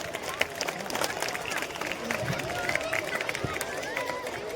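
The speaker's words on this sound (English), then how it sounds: "Audience, please applaud." At a school Children's Day morning assembly, the crowd claps in a steady patter of sharp hand strikes, with voices and general crowd babble running underneath.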